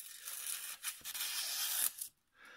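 A brand-new knife, straight out of the box, makes a test cut: a close, continuous dry slicing rasp lasting about two seconds with a few brief breaks, then a short pause and a faint final scrape.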